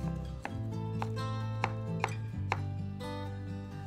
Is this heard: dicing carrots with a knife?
yes